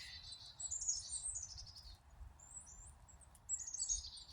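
Small birds at a feeder chitter in two short, faint bursts of high chirps separated by a pause, set against a quiet outdoor background.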